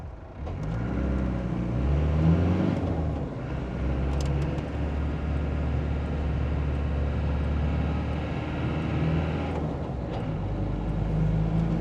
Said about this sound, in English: Does sound a good engine in this one.